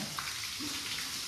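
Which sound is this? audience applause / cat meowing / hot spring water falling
hot spring water falling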